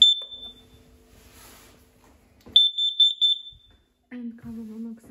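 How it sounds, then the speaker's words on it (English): Household carbon monoxide detector in a boiler cupboard, sounding loud, close high-pitched electronic beeps in two bursts separated by a quiet gap, with a brief low voice near the end. "And carbon monoxide detector."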